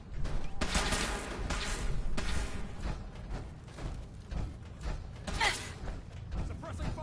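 Rapid bursts of gunfire from a firefight in Fallout 4 crackle almost nonstop, loud and close, thickening into a dense fusillade, with voices talking over the shooting.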